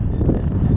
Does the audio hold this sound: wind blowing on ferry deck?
yes